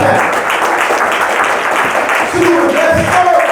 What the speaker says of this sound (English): That was a gold clap.